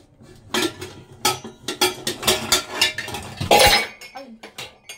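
A frying pan is pulled out and handled among other cookware, giving a series of near metallic clanks, knocks and clinks in an irregular rhythm, with a brief louder clatter partway through.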